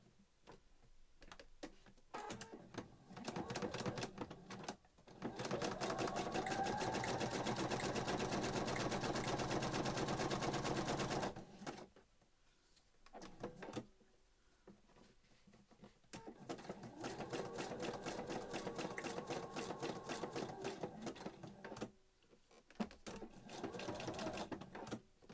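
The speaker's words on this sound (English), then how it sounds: "Set my machine to a zigzag and I'll just go across there." A vintage sewing machine stitches a zigzag across fabric, its rapid mechanical whirr running in two long steady bursts separated by a brief pause and quieter handling sounds.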